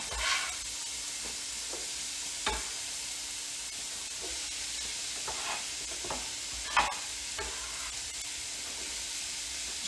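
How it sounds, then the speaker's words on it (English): Onions and celery cook in oil with a steady hissing sizzle, with occasional spoon scrapes and soft clicks of stirring rising above it. "So I got the onions and the celery in the oil cooking down."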